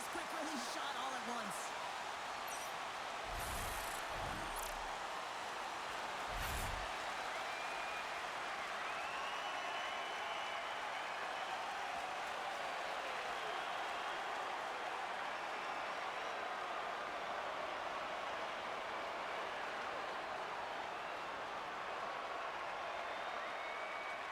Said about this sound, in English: Oilers crowd has really come to life here early in this first period after that goal.